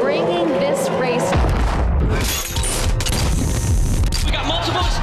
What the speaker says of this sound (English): We got multiple explosions.